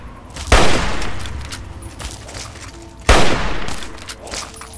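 Gunshots in the video game Fallout 3: two sharp, loud reports about two and a half seconds apart, each followed by a long ringing, reverberant tail over a busy background.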